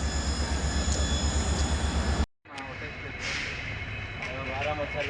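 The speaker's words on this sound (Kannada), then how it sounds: "Yeshwanthpur railway station." Train noise at Yesvantpur railway station in Bengaluru: a steady rumbling drone of rail cars that cuts out sharply, then comes back as a rougher, rattling rolling sound with some higher squeal, loud and close throughout.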